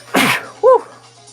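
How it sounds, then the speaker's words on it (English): A single sharp, loud sneeze bursts out close up, followed a moment later by a short voiced sound. "I gotta sneeze."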